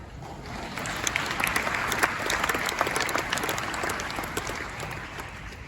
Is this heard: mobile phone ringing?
no